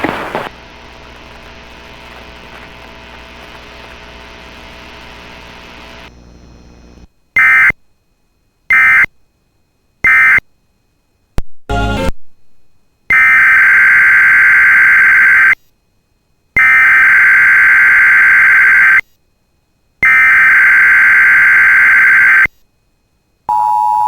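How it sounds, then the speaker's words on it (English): Emergency Alert System weekly warning alarm test: after a steady hum, a loud electronic tone sounds in repeated long bursts separated by short silences, with a few brief blips before them. "This concludes the weekly warning alarm test."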